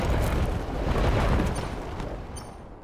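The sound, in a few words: lightning strike in the video game Into the Breach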